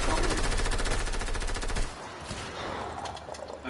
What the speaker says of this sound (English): Hey guys, we're getting shot at.